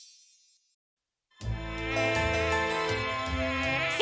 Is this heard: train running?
no